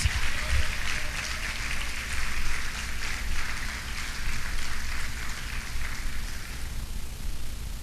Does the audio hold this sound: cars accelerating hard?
no